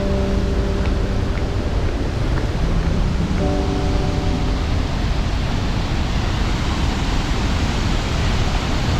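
Niagara Falls roars as a steady, dense wash of falling water and mist, loud and unbroken throughout, with faint tonal hums in the first few seconds and no talk.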